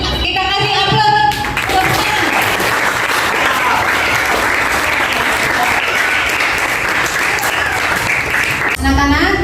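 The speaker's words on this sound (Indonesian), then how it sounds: "Kita kasih aplaus." A classroom of schoolchildren applauds a student with a burst of dense, even clapping lasting several seconds, briefly preceded and followed by voices.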